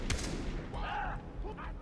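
One quick gunshot pops at the start of a Far Cry 3 firefight, fairly quiet, followed by voices talking under the game's background noise.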